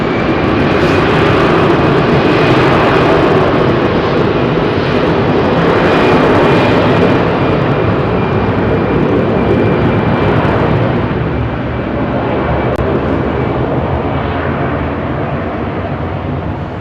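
A Finnair Airbus A320 with CFM56 engines taking off from runway 27R at London Heathrow: a loud, sustained jet roar fills the whole stretch, broad and heavy, swelling slightly then easing gradually toward the end.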